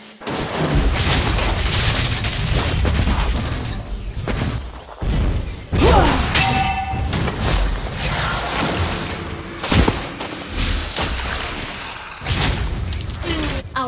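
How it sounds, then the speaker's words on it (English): In the Mobile Legends video game, a turret is destroyed amid a dense, loud barrage of booms, crashes and thuds from gameplay effects, with game sounds layered throughout. "Your team destroyed the turret."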